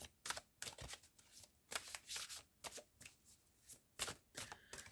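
Mystical Wisdom Oracle cards are shuffled in a run of quick, crisp riffling bursts repeating irregularly, close and alone without speech.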